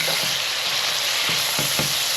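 Vegetables sautéing in a pan for a Jamaican fried green plantain dish give a steady, close hiss with a few soft stirring knocks.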